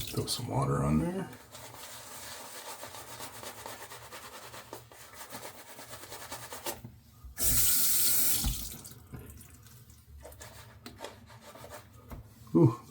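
Tap water runs over soap lather on a wet head, with soft rubbing and sink sounds under a voice. A louder rush of running water bursts in midway for about a second.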